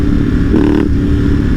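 A Ducati motorcycle engine rumbles loudly and steadily close by at high RPM, with a brief rise in pitch midway like a short throttle blip.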